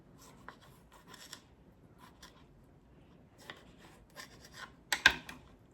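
A knife slices through sun-dried tomatoes to butterfly them, giving soft, scattered cutting and scraping sounds with a sharper chop near the end, close and quiet.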